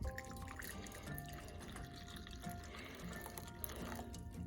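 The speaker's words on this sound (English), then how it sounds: "And then you want to put the water in your bowl." Hot water from a kettle pours into a bowl, a close, continuous trickling and splashing stream that stays fairly steady and quiet, with no voices.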